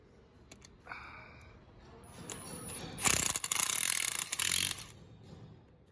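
A Milwaukee 3/8-inch drive ratchet snugs bolts on a military Humvee CV half-shaft install. A few faint clicks lead into a loud, dense burst of rapid ratcheting lasting about two seconds, then it stops.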